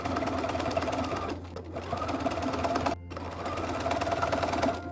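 A sewing machine runs in steady bursts while stitching a pant pocket facing seam, its fast, even mechanical whir close and clear, broken by two short pauses and joined by faint background speech.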